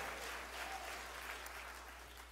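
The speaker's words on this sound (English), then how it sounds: "I want you to clap your hands and make that joyful noise unto the Lord" A church congregation clapping hands during worship, a soft, steady wash of applause-like patter, faint and somewhat distant over a low hum.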